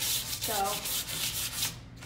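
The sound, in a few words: sanding painted furniture with 220 grit sandpaper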